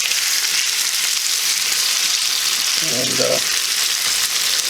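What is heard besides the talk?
hoecakes frying in a pan, being flipped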